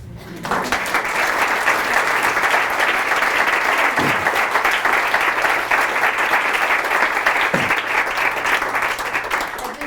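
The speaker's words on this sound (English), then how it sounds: "I just want to give my mom a round of applause." A book launch audience breaks into sustained, loud applause for the speaker's mother, a full crowd clapping evenly for about ten seconds, with a brief voice or two under it.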